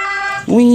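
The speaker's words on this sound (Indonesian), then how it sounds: "Wow, ada mobil ambulan." A toy ambulance siren rings out loud and close, with steady harmonic pitches that shift into a lower wavering wail partway through.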